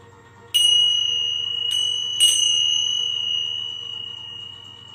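Small bells on a tarot reader's string ring out in a few bright strikes, each leaving a sustained metallic tone that lingers and slowly fades over a quiet room hum, with no talking.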